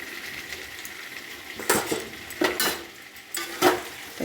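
Boiled potatoes tip into a pan of cooked spice masala and get stirred, a low sizzle broken by three sharp, close scrapes and clatters of a spoon against the pan, without talk.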